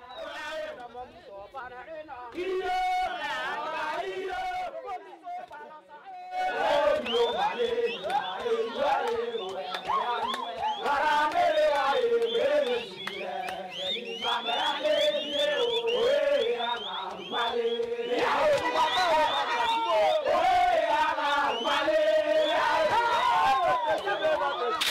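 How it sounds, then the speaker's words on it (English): A crowd at a land diving ceremony on Pentecost Island, Vanuatu, shouts and chants excitedly in rhythmic, voiced bursts, loud and continuous across the whole stretch after a brief quieter opening. "The crowd is getting excited."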